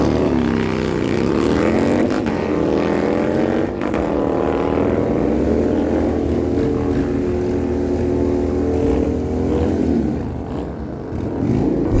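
A 2004 Harley-Davidson Lowrider Street and a 2021 Harley Road Glide drag racing at a dragway, their V-twin engines roaring loud and steady as they accelerate down the strip and the pitch climbs through gear changes.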